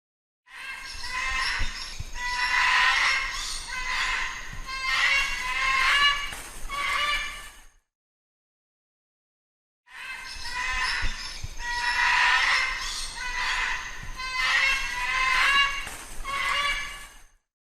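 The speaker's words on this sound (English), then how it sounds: "Cockatoo." A cockatoo gives harsh, raspy screeching calls in two long, loud bursts separated by a pause of silence.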